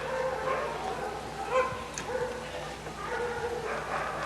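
Sled dogs whine, yip and bark while being harnessed for mushing, with overlapping high whimpers and short barks at moderate distance forming a restless, continuous chorus.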